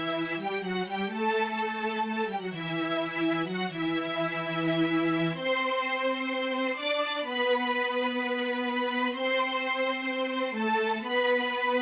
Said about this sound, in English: they have some nice strings that sounds like this